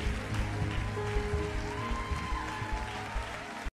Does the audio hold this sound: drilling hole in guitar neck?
no